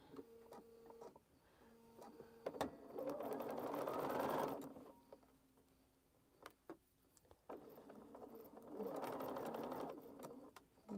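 A sewing machine stitching a quilting seam runs in two sustained bursts, a steady close whirring hum that stops for a pause between runs, with faint handling clicks and soft background sounds.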